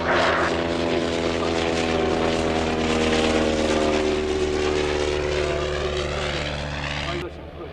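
A Sopwith Triplane flies by at an airshow with a loud, steady propeller-engine drone. The throbbing tone stays strong for the whole stretch, with talk heard over it.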